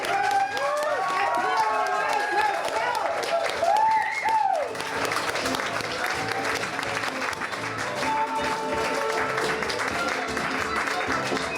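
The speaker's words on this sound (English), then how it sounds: "Let's get a round of applause for Mary and Catherine" A comedy-club audience claps and cheers for comedians Mary and Catherine, a dense, close burst of applause with a voice briefly rising over it before the clapping thins and continues.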